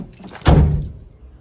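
A rusty Ford Transit van's door swings and shuts with one heavy metallic thunk, a low booming impact standing alone with faint rattling before and after.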